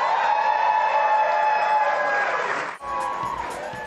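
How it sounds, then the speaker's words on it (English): A fired-up crowd cheering and shouting at a Massachusetts governor victory rally for Maura Healey, a dense sustained roar that dips for a moment and then swells again. "Fired up crowd there for sure."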